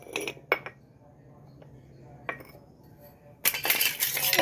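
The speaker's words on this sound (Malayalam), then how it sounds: "നമുക്ക് പാത്രം മുകളിൽ വെച്ച് കൊടുക്കണം." A cooking pot set down on a stovetop gives a few sharp metallic clinks and knocks, close and fairly soft, with a louder burst of clattering cookware near the end.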